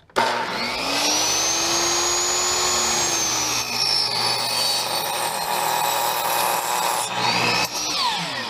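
A power saw cuts through a construction board, a steady loud whine that holds for several seconds, with a brief dip midway and a rising pitch sweep near the end.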